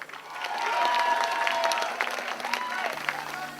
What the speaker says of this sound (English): Round of applause for Nuruddin